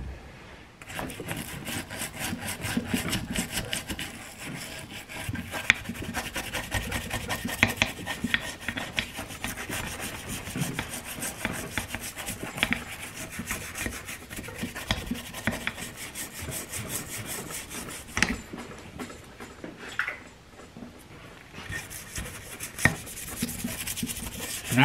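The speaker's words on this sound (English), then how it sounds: "I take a wire brush and I clean all that stuff out really good" A wire brush scrubs steadily at grease and grime on a car part, a continuous close raspy scratching with fast repeated strokes that runs without pause and without talk.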